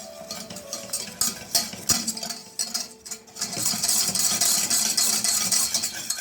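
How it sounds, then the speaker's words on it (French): Cornstarch stirred into melted butter in a pan, heard as close utensil scraping and clinking against the pan, steady at first and then a denser sizzling stir with no talking. "on va verser notre maïzena et on va essayer de la mélanger avec notre beurre"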